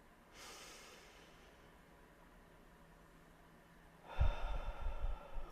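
A slow, deep breath in a meditation: a soft, airy inhale near the start, then after a pause a louder, rougher exhale that lingers close to the microphone.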